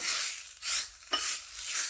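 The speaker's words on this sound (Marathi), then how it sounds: "एकच चमचा मी तेल गरम करून घेतले छान असं तडतड द्यायची मोहरी आणि एक मिरची घालायची" Mustard seeds and a green chili crackle and sizzle in a spoonful of hot oil for tempering, coming as bright, hissing bursts that swell and fade, close up and with no talk.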